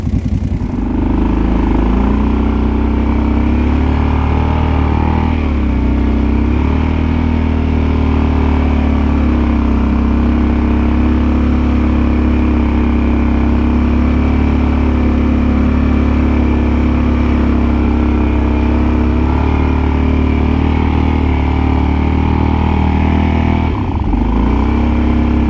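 A Kawasaki Brute Force 750 ATV engine runs steadily and loud while the machine plows a snowy trail, holding a continuous mid-pitched drone with slight load changes and a brief dip near the end, no voices.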